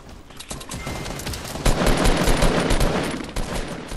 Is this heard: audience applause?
no